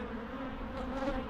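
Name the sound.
honeybees and drones buzzing at an opened hive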